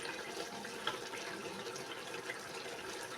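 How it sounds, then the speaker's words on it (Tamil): Water flows steadily into a pot of chicken biryani as it is added for cooking rice, a continuous close splashing, pouring wash with no talk. "இப்போ நம்ம தண்ணி ஆட் பண்ணிக்கலாம்."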